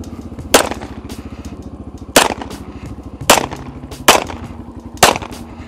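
Five sharp pistol shots crack at irregular intervals while riding over a bumpy, rocky trail, loud and close above a steady rattling engine drone.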